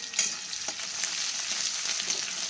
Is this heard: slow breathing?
no